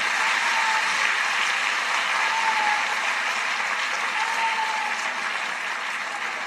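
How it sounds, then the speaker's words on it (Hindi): A packed legislative assembly hall audience at a BJP Women's Day event in Delhi applauds loudly, with sustained, dense clapping that holds steady for several seconds and eases only slightly toward the end. "एक बार जोरदार तालियां पूरा सदन बजाए।"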